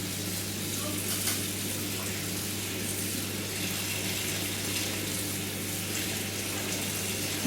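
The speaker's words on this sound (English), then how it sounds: "I'm running the tap water on a full whack basically" Tap water gushing at full flow, likely into a sink or basin near a heat exchanger unit, a steady broadband rush that holds level and unbroken throughout.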